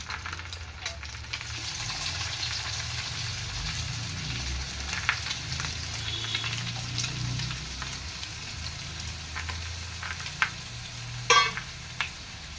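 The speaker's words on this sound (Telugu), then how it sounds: "ఇది ముందుగా కట్ చేసి పెట్టుకున్న పచ్చిమిర్చి, ఉల్లిపాయలు ముక్కలు వేసుకున్నాము" Chopped green chillies and onions frying in hot oil for an egg omelette curry, a continuous close sizzle with occasional light ticks and a brief utensil knock near the end.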